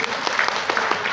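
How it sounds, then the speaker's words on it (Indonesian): An audience at a halal bihalal gathering and sarasehan for assessors claps together in a dense burst of applause, short and steady. "Boleh tepuk tangan?"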